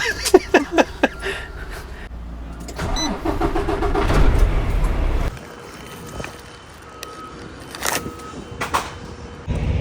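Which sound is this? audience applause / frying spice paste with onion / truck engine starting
truck engine starting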